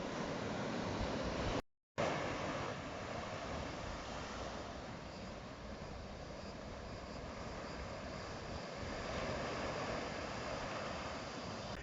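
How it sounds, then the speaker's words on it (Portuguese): Ocean surf at Tayrona Park on the Colombian coast, a steady broadband roar of waves that continues throughout, briefly cut out near the start, with no talking. "E você pode ver o mar, escutar o mar, e você tem um contato com a montanha."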